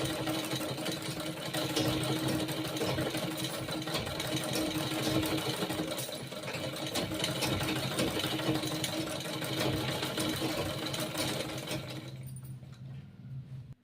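A sewing machine stitching lehenga fabric runs in a steady, close mechanical hum and rattle for about twelve seconds, then cuts off into near silence.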